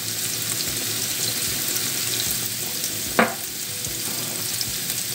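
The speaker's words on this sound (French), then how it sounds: "On fait revenir tout ça." Garlic and parsley fry in a pan for a meatball dish, giving a steady soft sizzle throughout with one brief sharp clatter partway through, no voices.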